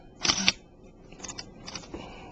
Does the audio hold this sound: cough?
no